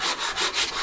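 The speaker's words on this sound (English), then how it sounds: "you don't want to see all this ruddy sanding" Rhythmic scratchy rubbing of sandpaper on scrap wood for a scroll-sawn toy, close and loud, in quick back-and-forth strokes.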